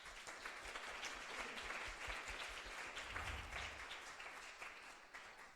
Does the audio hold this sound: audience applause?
yes